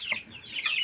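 Young chicks in autumn give a couple of short, faint clucking chirps close by, with brief quiet between calls.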